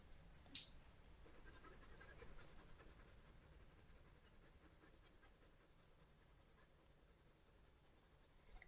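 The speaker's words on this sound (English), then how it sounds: "I keep the pencil stroke the same way all the time" Pencil strokes coloring on paper, a steady soft scratchy rasp that runs almost continuously at close range, with a sharp tap near the start and another near the end, no voices.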